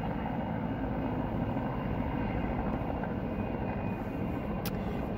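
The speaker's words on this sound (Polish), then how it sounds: "Helikopter." A helicopter passes overhead on a hot summer day, its steady broadband rotor and engine rumble filling the scene at moderate volume without pause and with no talking.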